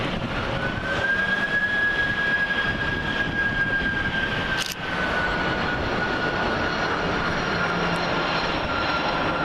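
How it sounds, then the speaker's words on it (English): A Turkish Airlines Airbus A330-203 jet arrives at Manchester Airport on runway 23R, a loud, steady engine roar with a thin whine running through it, sustained across the whole stretch. "Next up we have Turkish Airlines Airbus A330-203, registration Tango Charlie Juliet November Delta, working flight TK1993 from Istanbul"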